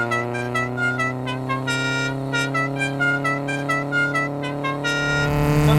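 Horn on a 1977 Toyota Celica, worked from a toggle switch inside the car, plays a rapid rising-and-falling tune of short pitched toots over a steady engine hum, fairly close and with no talk.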